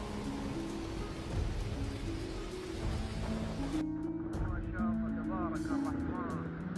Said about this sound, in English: The echoing sound of thunder and strong winds filled the air with tension